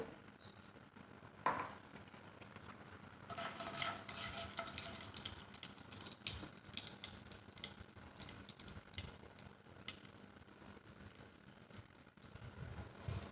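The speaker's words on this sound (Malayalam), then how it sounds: "ഇനി നമുക്ക് എണ്ണ ചൂടാകുമ്പോഴത്തേക്ക് കടുക് ഇട്ട് കൊടുക്കാവേ" Mustard seeds dropped into hot oil for a bitter gourd and green mango pickle, giving a steady low sizzle with a few stirring scrapes and faint crackles, close up and without talk.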